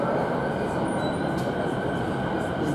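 A Toei Shinjuku Line express subway train runs through a tunnel, a steady loud rumble of wheels and carriage noise with faint high squeals above it, heard from inside the car.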